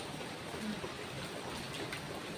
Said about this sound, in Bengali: সারাদিন ধরে অলমোস্ট বৃষ্টি হয়েই যাচ্ছে,